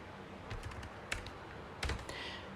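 Keys clack on a computer keyboard as Python code is written, a soft, close series of irregular taps with a couple of sharper presses, quiet and without talk.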